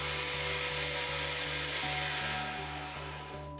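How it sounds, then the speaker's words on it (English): A Bio Bidet BB-i3000 rear wash nozzle runs a vortex water stream, heard as a steady, close motorized whir and hiss with a faint regular pulsing throughout, no voices. "This rear wash nozzle features a patented vortex water stream."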